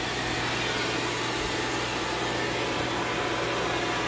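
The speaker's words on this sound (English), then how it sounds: "Vacuum time. Just trying to get some of this dust out of here." HEPA vacuum cleaner sucking dust out of an old Steinway piano action during restoration, a loud, steady, broadband whooshing roar with a low motor hum underneath, running without a break.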